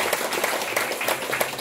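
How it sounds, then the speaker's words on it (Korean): A concert audience in a small cafe-style venue claps. The applause is dense and steady and fills the room, with no voices over it. "박수 한번 쳐주시죠."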